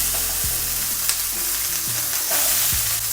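Onions and peppers sauté in a lightly oiled pan, giving a constant close sizzle with a low hum underneath and a few soft knocks, no talking.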